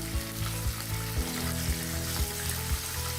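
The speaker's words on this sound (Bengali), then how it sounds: "2-3 মিনিট চিকেনগুলো ভেজে নিব" Chicken pieces fry steadily in hot oil for a home-style chicken roast, a continuous close sizzle with soft regular bumps from stirring or shifting pieces, and no voices.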